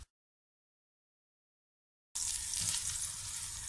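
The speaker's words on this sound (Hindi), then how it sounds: "इसी तरह के मैं तमाम बैगन फ्राई करूँगी।" Eggplant slices frying in oil over medium-low heat: after about two seconds of silence, a bright, steady sizzle starts abruptly and continues, close and fairly loud.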